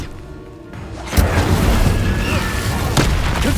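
An Incendio fire spell cast in Hogwarts Legacy lands with a sudden loud boom that rolls into a roaring blast, followed a couple of seconds later by a second sharp burst.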